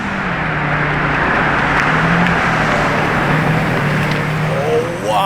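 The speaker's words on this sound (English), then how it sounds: "is that a purple Revuelto?" Purple Lamborghini Revuelto V12 hybrid supercar, a loud steady engine drone filling the whole stretch with a broad roar and a slight change near the end.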